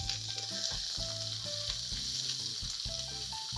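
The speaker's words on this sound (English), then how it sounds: "if you know the concept of stir fry is you cook and you constantly stir" Zucchini with garlic stir-fried on high heat in a pan for a Korean side dish, a loud steady sizzle broken by repeated stirring scrapes and clatter close by, with no voices.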